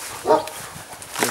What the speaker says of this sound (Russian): Собака сейчас, правда.